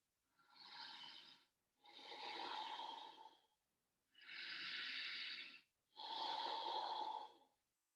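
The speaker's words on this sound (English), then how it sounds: "Breathing deeply." Slow, deep breathing during a yoga session: four long, airy breaths alternating between inhale and exhale, each about a second and a half, close and quiet with short pauses between them.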